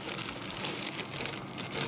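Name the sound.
crinkling plastic bag holding motorcycle part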